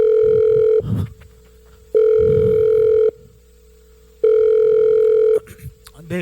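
Ringback tone of an outgoing telephone call: three long, steady electronic tone bursts separated by short pauses, fairly loud and close, with faint low background murmur in the gaps.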